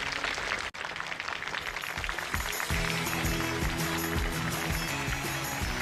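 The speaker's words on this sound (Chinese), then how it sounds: "再次把掌声送给唐月雪" Dense, sustained applause from a studio audience at a televised lecture show, a continuous roar of many hands, with low musical tones rising beneath it partway through.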